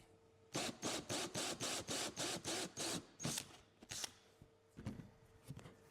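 A hole cutter punching through a car's trim: a rapid series of about ten sharp mechanical bursts in an even rhythm, then a few scattered irregular clicks and thumps, close and crisp.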